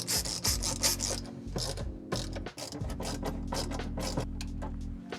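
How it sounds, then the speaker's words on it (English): Screws driven into the bottom of a nightstand during assembly with a ratcheting hand tool, giving quick repeated clicking bursts and brief pauses, close and fairly quiet. "we'll put 3 screws into the bottom of this, and just make sure not to over tighten these"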